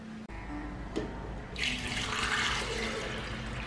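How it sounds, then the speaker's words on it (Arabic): Warm water poured into a blender while making Berber crêpe batter, a rushing, hissing stream that starts after a brief click and runs steadily to the end. "اول حاجه غادي نصب الماء دافي."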